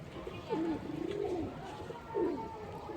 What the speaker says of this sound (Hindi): कबूतर गुड़कने लग गए तो